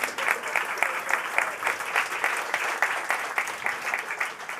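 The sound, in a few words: audience applause for panelists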